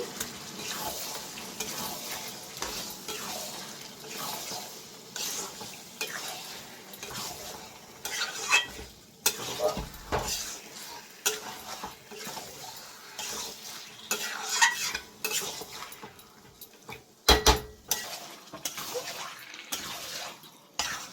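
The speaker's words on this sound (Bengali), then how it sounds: "পুরোটাই একবারে ঢেলে দিলাম, দিয়ে ভালো করে মিক্স করে নিচ্ছি।" Chicken stirred with spices in a pan for chicken kosha, with scraping utensil strokes and a soft sizzle that rise and fall in irregular bursts, fairly close and moderately loud, with no talking.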